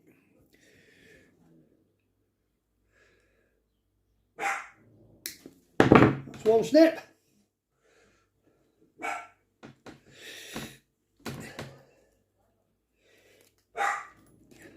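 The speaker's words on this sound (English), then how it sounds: "Listen to the dogs barking." Dogs bark in short scattered bursts, some fairly close, while someone talks and handles something between them.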